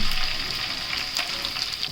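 Steady, hissing sizzle of cumin, curry leaves, cinnamon and bay leaf frying in hot oil, fairly loud and continuous throughout with no talking.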